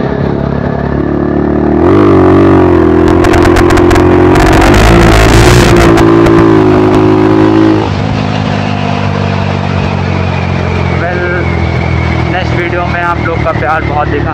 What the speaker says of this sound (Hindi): बाइक की साउंड सुनिए आप लोग